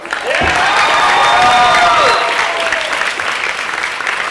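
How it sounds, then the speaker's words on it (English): At a senior banquet, the room breaks into loud, sustained applause for the parents, many hands clapping together with a whoop or cheer rising over it before the clapping gradually thins out. "I would like to ask you to give them a round of applause"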